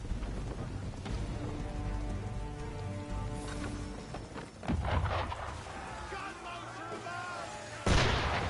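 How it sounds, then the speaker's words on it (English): Gunfire in Assassin's Creed III: several sharp, loud shots fired at intervals, the last one especially strong, over steady rain-like noise and music, with voices speaking in between. "Why is he shooting at us?"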